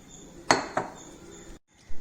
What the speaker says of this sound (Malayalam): ഇത് ഇളക്കി കൊടുക്കണം